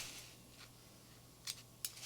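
Two quick, crisp snips of scissors cutting thread close by in a quiet room, separated by a short pause.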